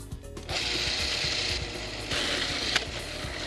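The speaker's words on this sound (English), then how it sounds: "grind these ingredients to a smooth paste in a food processor" A food processor grinds lemongrass, garlic and chili into a spice paste with a loud, continuous whirring and clattering churn, one brief dip midway before the motor picks up again, close and without talk.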